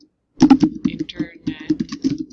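Fingers tap on a computer keyboard, a quick run of soft clicks mixed in with a person speaking close by.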